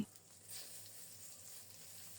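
Small foli fish frying in hot oil with a few green chillies give off a soft, continuous sizzle, faint and close, with no talk.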